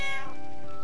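A cat in the Final Fantasy IX video game gives a short, clear meow that trails off within a second, heard alone.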